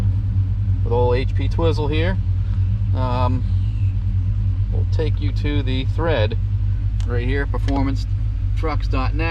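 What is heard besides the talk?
pickup truck engine idling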